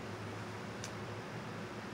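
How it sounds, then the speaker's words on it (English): Electric fans running in a hot indoor room give a steady, broadband whooshing hum with a low drone, continuous and fairly quiet throughout, with one brief high tick partway through. "Sorry about the noise in the background. That's, like, the fans, because it's hot in here."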